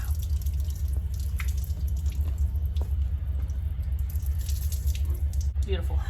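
Coolant drains and drips from an electric car project build, a steady trickle of liquid splashing over constant low rumble, with faint talk in the background.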